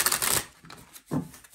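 Brisk riffling of a tarot deck in a short burst, followed by a quieter second riffle a moment later, close and crisp.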